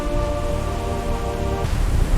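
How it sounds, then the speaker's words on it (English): Rain starting to fall in a storm scene, a steady hiss of noise that swells slightly louder toward the end under a faint sustained musical drone. "The first drops of rain began to fall."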